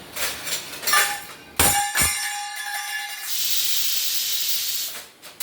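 Steam hisses from a pot of vegetable curry cooking in a home kitchen. Sharp metallic clatters come first, then a steady loud hiss that drops away near the end, with no voices.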